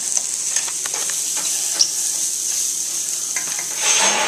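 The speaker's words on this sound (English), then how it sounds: "So I'm stirring it. It's going to get brown." Rice being browned in a pan for Spanish rice, a steady sizzle with light scraping and occasional clinks of a utensil against the pan, swelling slightly near the end.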